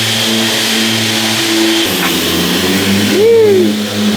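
A turbocharged BMW M52 straight-six, newly fitted with exhaust and dump pipe, fires up for the first time, idling roughly before a loud rev climbs and falls near the end, heard up close.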